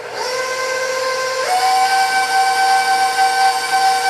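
An electric mixer whirs steadily while blending cream cheese, butter and vanilla extract into icing, a loud sustained motor whine that steps up in pitch partway through as the speed rises, with no talking.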